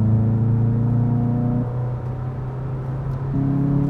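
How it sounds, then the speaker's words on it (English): A 2022 VW Jetta GLI engine heard from inside the cabin with artificially enhanced sound, a steady droning hum that drops to a lower, rougher rumble midway and then steps back up to the higher tone. "Should we toggle through the engine sound?"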